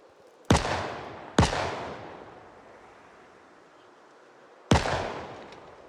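Three loud gunshots ring out in the zombie survival game Project Zomboid: two close together, then a pause before the third, each with a long fading echo.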